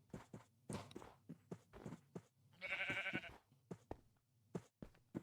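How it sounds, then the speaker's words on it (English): A single sheep bleats in a survival video game, a short wavering call amid a steady series of soft, evenly spaced footstep thuds, fairly quiet and without talk. "And I managed to find some sheep very, very far from base."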